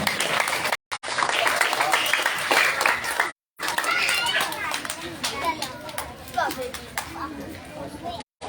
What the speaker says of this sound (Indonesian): Beri aplaus kepada anak kita.